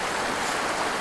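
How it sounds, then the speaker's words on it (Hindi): A flowing stream outdoors gives a brief, steady wash of rushing water noise, even and unbroken, with no voices. "बहता हुआ पानी"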